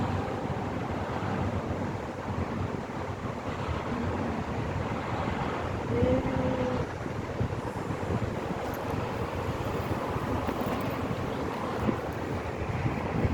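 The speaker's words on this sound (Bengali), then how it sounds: "রোদের সাথে সাথে হাওয়াও দিচ্ছে" Steady wind blows outdoors near the sea in Muscat, Oman, a continuous rushing roar with microphone buffeting and faint surf underneath, close and fairly loud throughout.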